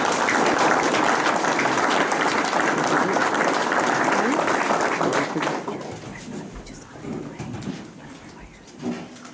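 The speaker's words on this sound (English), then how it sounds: "give them a round of applause" A crowd at an FFA high school banquet gives a round of applause, strong and dense at first, then tapering off after about six seconds into scattered claps and soft room murmur.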